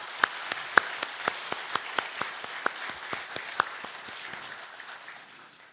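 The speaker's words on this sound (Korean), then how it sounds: "다시 한번 힘찬 박수로 격려해 주십시오." A crowd at a church worship gathering applauds after a hymn, with a few sharp distinct claps standing out over a dense wash of clapping that slowly thins and fades by the end.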